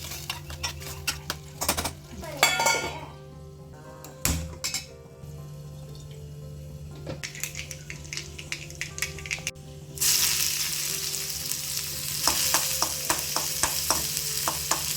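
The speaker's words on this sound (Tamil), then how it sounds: "கொஞ்சமாக உப்பு சேர்த்துட்டு நல்லா வதக்கி விட்டுக்கலாம்." Ground tomato with salt sautés in a pan for a home breakfast and lunch cooking routine, with sizzling frying, repeated scrapes and stirring clinks of a spoon against the pan, and a louder burst of sizzle midway.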